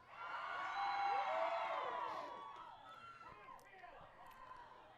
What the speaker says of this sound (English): Hear the crowd roar there as Glenn's name was mentioned.